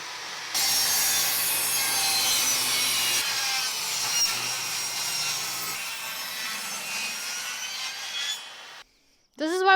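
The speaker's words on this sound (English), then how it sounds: "I'm going to attempt to cut a piece on the table saw" A table saw rips through a piece of wooden trim, producing a loud, steady whining cut lasting several seconds that stops abruptly near the end, followed by a brief pause and a short burst of sound.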